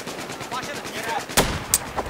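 Gunfire in the Battlefield 4 video game: a low continuous rumble of battle with two sharp, loud shots standing out near the end, nearby and distinct.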